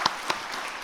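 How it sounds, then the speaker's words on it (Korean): Brief, faint applause from a church congregation at a Sunday afternoon service, clapping to encourage the church elders, with a couple of sharper claps standing out. "우리 박수로 격려하겠습니다."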